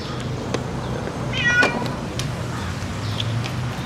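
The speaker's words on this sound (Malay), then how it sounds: "Kita pergi vet pula, bawa kucing." A cat meows once, briefly and fairly faintly, over a steady low rumble while being taken to the vet for a skin problem.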